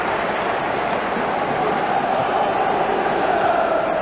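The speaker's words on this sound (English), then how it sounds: "the crowd roars" A football stadium crowd at an English League Cup quarter-final between Ipswich Town and Sheffield Wednesday roars in a steady, dense wash of noise that holds throughout without a break.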